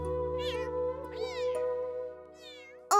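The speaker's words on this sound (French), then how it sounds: "Nina, pourrais-je jouer avec tes chatons?" Several high, wavering kitten meows rise one after another over a steady low hum, with a brief loud burst at the very end.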